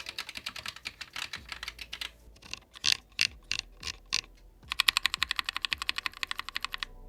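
Typing on a Roccat Vulcan TKL Pro mechanical keyboard, close and crisp, with rapid runs of keystrokes, a few slower separate taps in the middle, then a fast steady burst toward the end.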